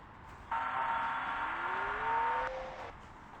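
A police car driving in the video game Chicken Gun gives a steady synthetic engine whir for about two seconds, with a rising tone near the end before it cuts off. No one speaks over it.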